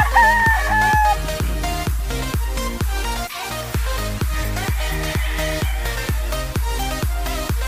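A Boston black gamecock rooster crows and clucks, its calls rising near the start before fading into the background, set against a steady, loud rhythmic pulsing beat that runs throughout.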